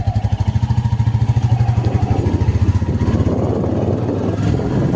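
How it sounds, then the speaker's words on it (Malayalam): A motorcycle engine idles close by with a fast, even pulsing throb that turns rougher and a bit louder toward the end. "അപ്പോൾ നമ്മൾ ബൈക്കിലാണ് കേട്ടോ പോകുന്നത്"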